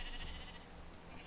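Sheep in Minecraft bleat a couple of times, quiet and mid-distance, over a steady background with no talking.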